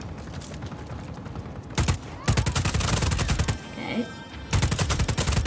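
Bursts of rapid gunfire in the open-world action game Just Cause 4, loud and repeated in several volleys with short gaps, while a voice speaks briefly over the shooting.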